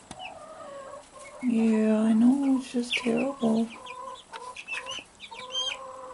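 Baby chicks, including a speckled Sussex, peep and cheep in their new home, with a louder run of calls in the middle and a person talking over the chirping.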